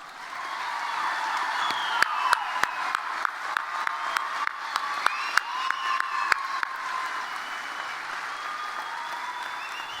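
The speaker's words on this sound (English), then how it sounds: "let's give our graduates one final round of applause." A large audience at a university commencement claps steadily and warmly for graduates, with a few scattered cheers and whoops rising above the sustained applause.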